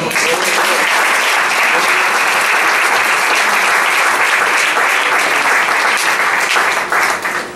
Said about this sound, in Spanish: Gloria, un aplauso fuerte al Señor.